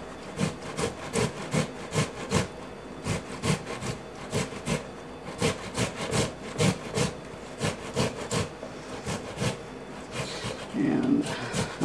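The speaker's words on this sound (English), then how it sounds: "And while the tomato is grating, most of the skin should remain intact." A tomato rubbed against a grater for tostada, making regular rasping strokes about once per second, close and distinct, with a person talking over them.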